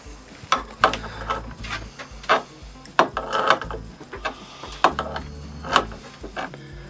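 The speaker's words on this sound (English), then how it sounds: "Let's use the universal wrench. The small 8-inch crescent wrench." A small 8-inch crescent wrench tightens a fitting on a 1947 Johnson 5hp outboard motor, making irregular close metallic clicks and scrapes in short bursts.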